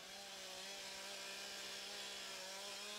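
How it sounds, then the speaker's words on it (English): A chainsaw runs in a forest with a steady, buzzing whine that holds an even pitch throughout, heard faintly from a distance with no voices. "To introduce soldiers to the operation of the chainsaw"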